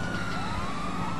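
A police siren wails without a break in a first-person escape from the cops in GTA V, a steady rising tone over engine and road noise.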